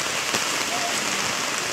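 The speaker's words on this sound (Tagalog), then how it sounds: "bumuhos ang ulan" Heavy rain pours steadily in a dense, continuous hiss of drops hitting a surface.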